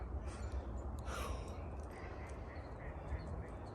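Ducks quack a few times at a distance, mixed into steady outdoor noise and rumble.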